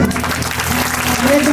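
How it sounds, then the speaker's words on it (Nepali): Congregation clapping for a volunteer at a church gathering, a continuous crowd applause with a low hum beneath and a faint voice briefly rising near the end. "हाम्रो रमनलाई ताली सबैजनाले"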